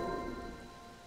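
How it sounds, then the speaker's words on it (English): Steady rain falls in The Legend of Zelda: Tears of the Kingdom, a soft continuous wash of drops with no other sounds and no voices. "Still raining."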